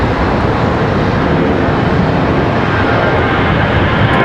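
A Boeing 737 passes at Charlotte Douglas airport with a loud, steady broadband jet roar that fills the whole stretch, close and constant, with no talk.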